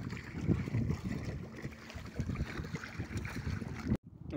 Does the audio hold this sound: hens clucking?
no